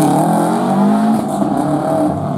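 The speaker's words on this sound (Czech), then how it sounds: "Šimánek, JS Rally Team, Subaru Impreza" A Subaru Impreza rally car of the JS Rally Team revs its engine at the ceremonial start of the Podorlická rally in Opočno, loud and close, the pitch rising and then easing off.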